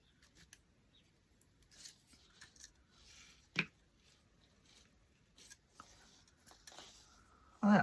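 Scissors snipping cardboard for spring bunny crafts, a few faint, sparse, close cuts and rustles separated by quiet gaps, with one sharper snip midway and a louder handling noise at the end.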